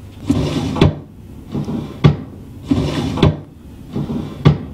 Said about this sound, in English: It's a straight up shelf.